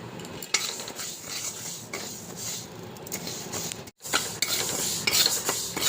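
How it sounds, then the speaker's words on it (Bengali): Moong dal is dry-fried in a hot kadai, the spatula scraping and stirring steadily with light sizzling and clinks of metal on metal, close and continuous, with one brief pause. "এবার এই মুগ ডালগুলো ভেজে নেব।"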